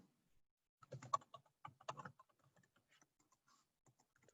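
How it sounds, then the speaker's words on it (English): Quick bursts of typing on a computer keyboard, a dozen or so close, crisp key clicks in an uneven rhythm, then sparser taps trailing off in an otherwise quiet room. "I will also type in my"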